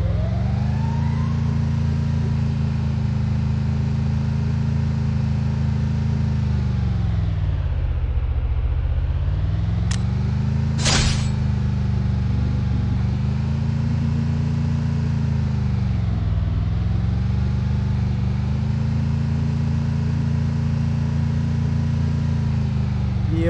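A car engine in the Free Fire mobile battle game hums steadily and loudly throughout, its pitch sagging and climbing as the vehicle slows and speeds up, with a brief sharp click and burst near the middle.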